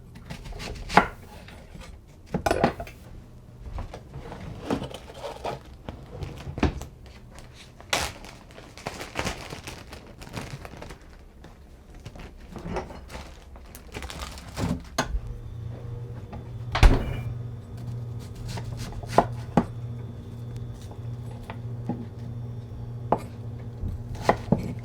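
Knife chopping half an onion on a board for a turkey and noodles dish, a run of sharp, irregular close-up cuts with brief pauses and light kitchen handling noises in between.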